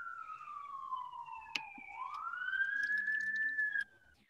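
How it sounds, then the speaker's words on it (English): Emergency vehicle siren picked up through a participant's microphone during an online workshop call: a single clear wail that falls, then rises and holds, fairly faint and distant, before cutting off abruptly. "we can also hear your siren"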